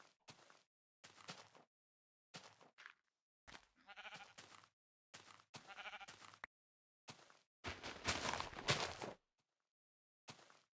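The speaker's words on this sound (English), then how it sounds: "Why is there a sheep in the tree?" Repeated sheep bleats from the video game Minecraft (Tekkit Classic) in short bursts with pauses between, fairly close, no other sounds around them.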